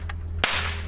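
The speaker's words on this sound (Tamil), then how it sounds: "சரி இந்த பட்டாசு வெடிக்குது." A Diwali firecracker bursts with a single sharp, loud crack, followed by a crackling hiss that fades, over a constant low hum.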